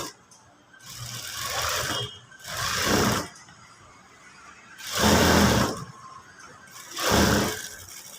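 Sewing machine stitching a lace border around a boat neck blouse, four bursts of fast mechanical whirring separated by short pauses, close and fairly loud.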